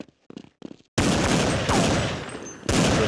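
Rapid submachine gunfire in the video game Counter-Strike crackles in two loud sustained bursts, preceded by a few quieter clicks and footstep-like taps.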